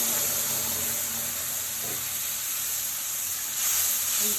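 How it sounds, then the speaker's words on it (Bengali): Cumin, bay leaf and ground spice paste sizzle in hot oil, a loud, steady hiss up close that swells briefly near the end, with no voices over it. "জিরে, পেস্ট করা মশলাটা দিয়ে দিলাম।"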